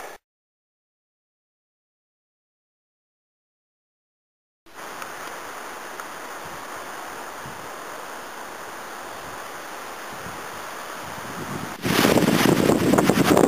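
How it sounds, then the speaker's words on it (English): Steady wind buffeting the microphone high on the Pikes Peak trail, a continuous rough rushing that starts after several seconds of silence and grows harsher and louder near the end, with no talking. "a little difficult to hear with the wind maybe, hope not."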